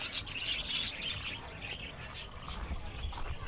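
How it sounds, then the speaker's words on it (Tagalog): Small birds chirp and tweet at a seaside resort in Calatagan, with a sea breeze; the calls are fairly faint and scattered over a steady outdoor background. "May mga ibon pala dito."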